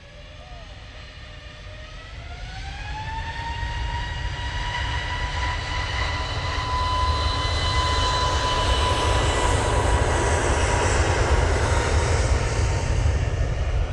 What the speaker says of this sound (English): That 321neo is off to Fuerteventura.